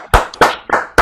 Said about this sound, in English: I would ask that the virtual platform party all unmute themselves and give a round of applause for